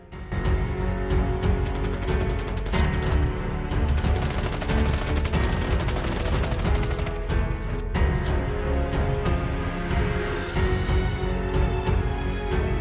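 Continuous gunfire in Call of Duty Mobile battle royale as weapons shoot at bots, loud, rapid automatic bursts running almost without pause, with a brief lull near the middle before the firing resumes.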